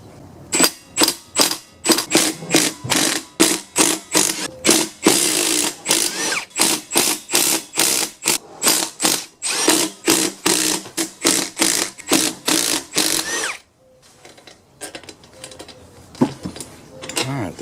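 A ratchet clicks rapidly and loudly in steady bursts as it removes the sump cover bolts on a Briggs & Stratton 21HP Platinum engine from a Craftsman YT3000. The pawl rattle repeats for many strokes, then stops into quieter handling sounds.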